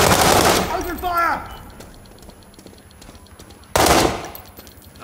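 Bursts of automatic gunfire rattle loud and close in the World War 3 video game combat, a long opening volley, a quieter clattering stretch, then another sudden burst, with a brief voice call mixed in.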